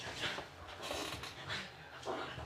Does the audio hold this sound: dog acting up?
yes